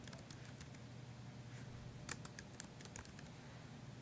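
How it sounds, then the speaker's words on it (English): Faint, quick keystrokes tap on a computer keyboard as search terms for a peanut sauce recipe are typed, a light irregular patter with a brief flurry of clicks near the middle. "so I type in the search terms, I click enter"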